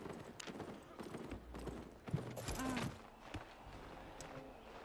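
Rhythmic hoof clip-clop of a galloping horse amid combat noise in the game Albion, with a brief whinny-like cry and thuds midway.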